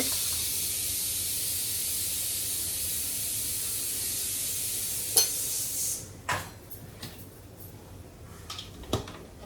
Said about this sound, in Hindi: लाल मिर्च डालते ही 2 सेकेंड में I just fry it a little bit